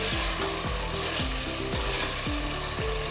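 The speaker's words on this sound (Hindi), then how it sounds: "गोश्त की हाई फ्लेम पर भुनाई कर लेंगे" Meat being roasted in a pan over a high flame, sizzling loudly and steadily while repeated scraping strokes stir it in a regular rhythm.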